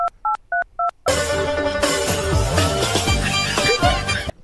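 Four short dialing tones beep in quick succession, then give way to louder, busy background noise.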